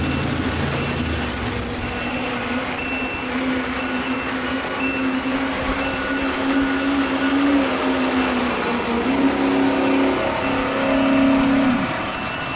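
At the Golden State Invitational in Madera, California, a Chevrolet work stock pulling truck named Misty B roars under load, a loud, steady engine drone lasting several seconds with a sustained wavering pitch that never climbs high.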